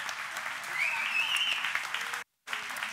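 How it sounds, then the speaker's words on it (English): Audience applause at a church gathering, a steady wash of clapping from a crowd that fills the room, then cuts out briefly before resuming. "Let's give them a round of applause, will you please?"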